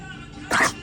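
A single short sneeze bursts out close by, lasting a fraction of a second, against a faint quiet room background.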